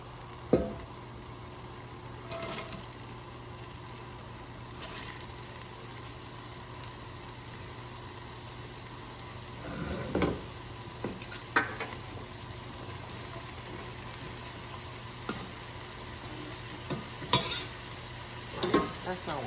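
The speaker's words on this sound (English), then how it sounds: "we're going to get our vegetables in here and get them nice and sauteed" Vegetables including carrots sautéing in oil in a pan for an emu goulash, a steady low sizzle with scattered clinks and scrapes of stirring, fairly quiet and with no talking.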